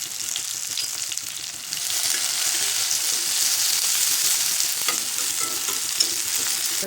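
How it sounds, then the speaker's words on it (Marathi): Mustard seeds, cumin and coarsely crushed garlic fry in oil for a Kolhapuri puffed-rice bhadang snack, giving a steady, close, loud sizzle that swells slightly with stirring and has no talk over it. "ह्या वस्तू सर्व तळून घ्यावं लागतात व्यवस्थित"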